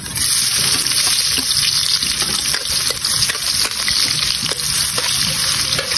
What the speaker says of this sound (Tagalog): Ilalagay na natin yung sabay-sabay ang ating kidlat ni John TV. Bawang sibuyas at luya